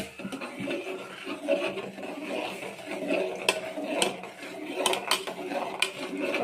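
Spoon scraping and clinking against a pan while Maggi noodles are mixed, irregular metallic taps and scrapes close by, with people talking around it.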